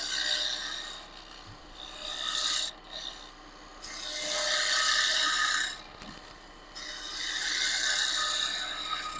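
A gouge cuts into a sycamore bowl spinning on a woodturning lathe, a close, loud rasping shear that runs in three long passes separated by brief pauses, with no talk.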